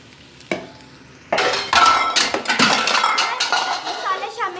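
Onions, garlic ginger paste and chopped tomatoes fry in a pan, a loud close sizzle with metal spoon scrapes and clinks as the mixture is stirred.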